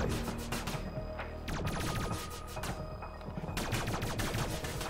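Rapid gunfire in the VR game Tower Tag, loud continuous bursts of sharp shots rattling throughout with no pause.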